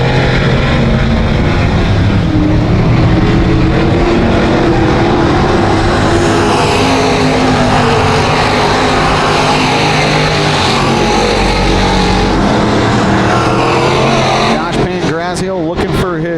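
Street stock cars race around a dirt track, engines roaring loudly and steadily throughout with a race announcer talking over the noise, and a few sharp bursts near the end.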